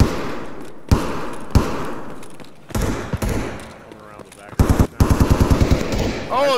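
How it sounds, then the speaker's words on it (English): Gunfire from Escape From Tarkov sounds as loud single shots and then bursts of rapid automatic fire, close and sharp, with voices talking between the volleys. "Santa's shooting somebody."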